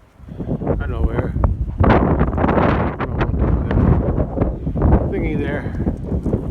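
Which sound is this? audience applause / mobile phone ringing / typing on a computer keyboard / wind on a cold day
wind on a cold day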